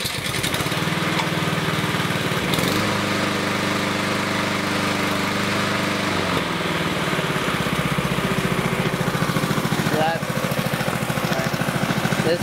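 A lawn mower engine runs steadily at about half throttle, a constant close buzzing drone with slight shifts in pitch, while someone speaks over it.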